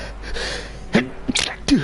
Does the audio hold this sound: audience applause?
no